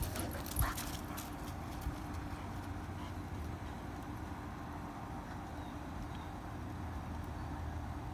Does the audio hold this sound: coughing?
no